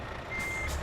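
A truck backing up in a trucking video game, with a single steady reversing beep tone over a loud engine rumble, and no one talking.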